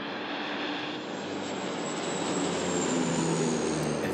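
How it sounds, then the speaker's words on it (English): A fire-fighting airplane passes overhead during dry brush fire season, its engine a steady, loud broadband roar that holds evenly throughout with no voices. "If you heard or seen this plane,"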